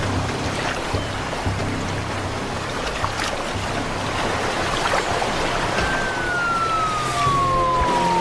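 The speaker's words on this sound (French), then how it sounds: "C'est le bruit d'une voiture de patrouille" A police patrol car siren in the open desert, heard at moderate distance as a wailing tone over steady wind or ambient rumble, becoming clearer and gliding downward toward the end.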